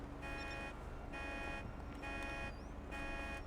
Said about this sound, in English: We can also turn on the alarm.